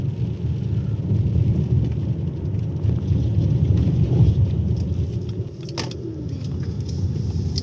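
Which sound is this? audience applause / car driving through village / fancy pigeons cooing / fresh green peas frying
car driving through village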